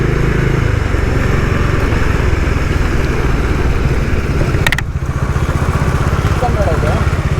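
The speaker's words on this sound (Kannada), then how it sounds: "ನೋಡಿ ಮುಂದೆ ಒಂದು Z900 ಹೋಗ್ತಾ ಇದೆ," A superbike's engine drones loud and steady while riding on the road, with a Kawasaki Z900 ahead. A brief sharp noise cuts in midway.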